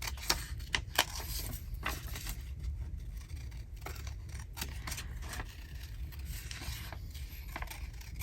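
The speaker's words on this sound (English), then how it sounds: "I just wiggle my scissors around." Scissors snip and wiggle through paper while cutting pieces for a Christmas journal bag, with quiet irregular clicks and scrapes close up, short sharp cuts scattered across the stretch and no talking.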